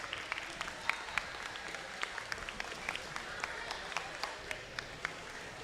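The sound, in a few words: applause for robotics teams at FRC event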